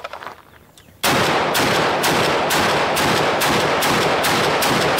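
Brandon Herrera's prototype AK-50 rifle fires into ballistic gel: after a second of quiet, a rapid, evenly spaced string of about nine loud, close shots rings out, each blast crisp and booming.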